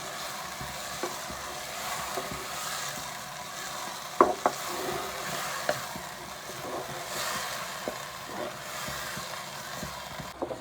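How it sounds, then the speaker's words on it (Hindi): Tomato, garlic, ginger and spices frying in a pan for a potato masala dish, a continuous close sizzle broken by spoon scrapes and a few sharper knocks against the pan. "टमाटर, लहसुन, अदरक, तमाम मसालों को 1 से 2 मिनट तक अच्छी तरह भून लेते हैं।"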